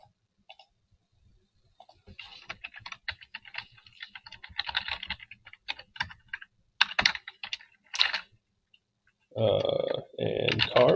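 Rapid, close keyboard typing with clattering keystrokes in irregular runs, broken by short pauses and a few heavier key presses near the end.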